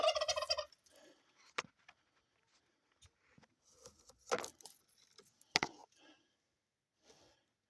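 A turkey gobbles loudly at the start, a rapid rattling burst, followed by scattered clinks, rustles and sharp knocks nearby, while an electric fence around chickens and turkeys is being fixed.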